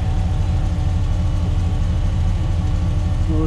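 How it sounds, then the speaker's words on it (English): A 1987 GMC R1500 Sierra shortbed pickup engine runs at a steady idle, a dense low rumble with even pulsing and no knocking, close and loud throughout with no talk. "If you hear the engine purrs as it should, no knocking or ticking."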